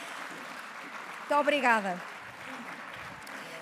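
An audience applauds steadily at a Compromisso de Honra ceremony in Viseu honouring people with 30 years in their profession, a woman's brief spoken thanks rising over the clapping midway.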